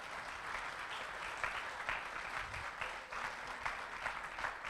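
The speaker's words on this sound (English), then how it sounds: "and let's applaud." A church congregation applauds a former pastor with a steady, fairly soft wash of clapping across the room that continues evenly without talk.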